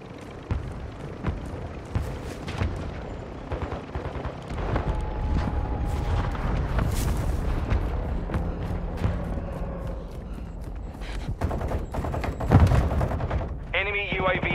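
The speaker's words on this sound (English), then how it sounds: "Our mortar strike is inbound." Mortar strike explosions in the multiplayer game Call of Duty: Modern Warfare II, rumbling booms and bursts of gunfire packed densely over about fifteen seconds, with voices speaking at points among the blasts.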